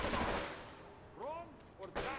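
Gunfire in Grand Theft Auto III on PS2, a few sharp shots clustered near the end after a quieter stretch, with ringing tails, fairly close and punchy.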